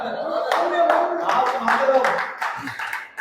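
Audience applause at a Hindi kavi sammelan poetry recital: steady, dense clapping from a crowd fills the few seconds, with a speaking voice carrying over it.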